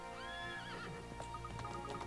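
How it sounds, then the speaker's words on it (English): A spirited horse in the Professor Layton vs Phoenix Wright video game gives a loud, wavering neigh, followed by clattering hoofbeats, set against the game's constant background music. "Hey, easy boy. This horse is certainly spirited."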